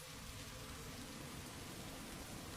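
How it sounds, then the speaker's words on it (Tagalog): Heavy rain pours steadily in a dense, unbroken hiss, loud and continuous with no voices over it. "Tagal tumila naman ng ulan"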